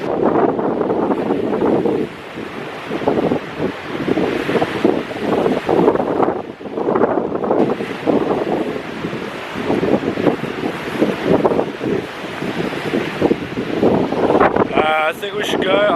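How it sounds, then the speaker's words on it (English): Strong coastal wind buffets the microphone in loud, gusting rumbles, with surf and waves beneath at a shipwreck beach in the early morning; speech is faint and mostly buried by the roar. "man, it's so windy right now"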